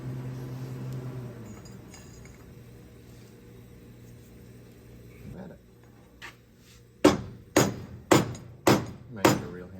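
A rubber mallet pounds a part during neck bearing work on a 1974 Honda CB350F motorcycle: five loud, sharp, evenly spaced blows near the end, with a few lighter taps and a low hum before them.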